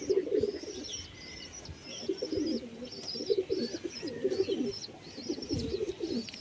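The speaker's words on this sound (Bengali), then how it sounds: "ভালো মাদি পায়রাটা, ভালো মাদি পায়রা" Pigeons coo in repeated soft, throaty phrases, close by, with faint chirps and a steady low background hum.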